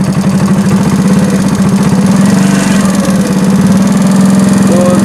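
A 70cc motorcycle engine with a burnt rectifier runs at a fast idle under light throttle, a loud, steady, close-up putter with an even pulsing beat and no voices.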